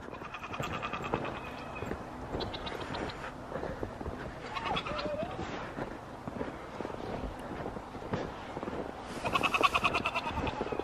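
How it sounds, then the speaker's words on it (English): Goats bleat repeatedly at close range in a farm pen, with a cluster of louder calls near the end over rustling and light wind noise. "Does Willow smell like a male goat"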